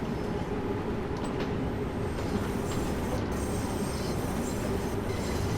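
London Underground Bakerloo Line train in Train Sim World 2, a steady loud rumble of running wheels and motors with faint higher whines, continuous and close.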